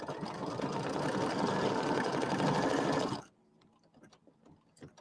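An embroidery machine stitches a leaf placement line on fabric for a bench buddy project, a rapid, steady needle chatter lasting about three seconds before stopping abruptly, leaving faint clicks and handling sounds.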